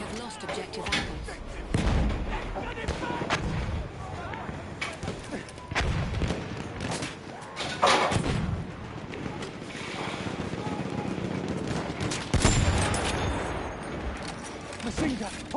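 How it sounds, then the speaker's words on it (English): Hostile machine-gun fire in a combat game sounds in intermittent heavy bursts and booms at mid distance, recurring every few seconds, with voices heard between them. "Machine gun, hostile."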